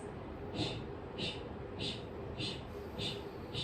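Forceful breaths in and out through the mouth, like blowing out a candle, in a hot yoga class, with about six sharp, airy rhythmic puffs at regular intervals over a faint background.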